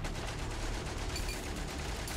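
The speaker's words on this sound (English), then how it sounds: "Go ahead, shoot again." Gunfire in the video game Valiant Hearts, a dense continuous burst of rapid shots that runs without a break, loud and close, with no one speaking.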